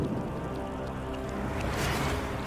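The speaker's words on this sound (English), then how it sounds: "Until the retroact rain began to fall." Retroact rain falls in the video game Wuthering Waves as a soft, steady patter of drops with a faint low rumble underneath, continuous throughout.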